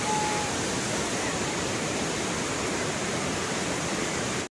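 Kuang Si waterfall near Luang Prabang, Laos, roars as a steady, dense rush of falling water that fills the whole clip without a break, with no voices.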